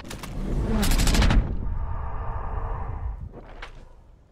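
Close, loud gunshots in Valorant crack out in a quick volley, followed by a sustained humming in-game tone and one more sharp shot near the end.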